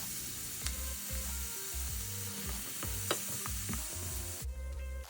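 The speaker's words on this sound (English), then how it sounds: "Give everything a good stir and cook for about 5 to 7 minutes." Chopped vegetables and bay leaves sizzle in an oiled pan while a utensil stirs them, giving repeated scraping strokes over a steady close frying hiss, with no talking.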